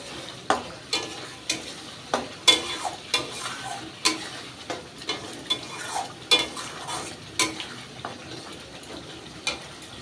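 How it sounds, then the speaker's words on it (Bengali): A spoon stirs and scrapes spiced masala sizzling in a pan for chicken dum biryani, with regular sharp clinks of metal against the pan over a soft steady fry, close and alone. "এই মশলাটা আরও একটু কষিয়ে নেবো আমি।"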